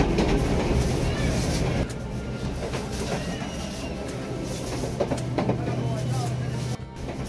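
A historic train in Uruguay rumbles and clatters along the rails with a steady low drone and occasional knocks, heard from inside the carriage, loud and continuous with no clear talk.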